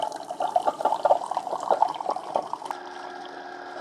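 Keurig coffee maker running water through during a cleaning cycle, a steady gurgling, bubbling flow that stops abruptly and leaves a quieter mechanical hum.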